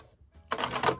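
A sewing machine back stitching at the corner of a butterfly quilt block starts up after a quiet pause, giving a close, rapid clatter of stitching for about half a second.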